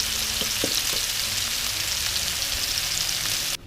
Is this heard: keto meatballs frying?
yes